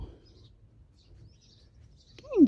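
Quiet background, then a single sharp, descending squawk close by at the end from a parrot eating guava and calling to other parrots.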